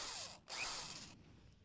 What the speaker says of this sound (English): You like pulled up fucking drill sounds